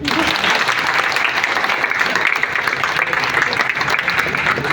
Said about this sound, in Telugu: ఆయన చప్పట్లు కొట్టచ్చు కదా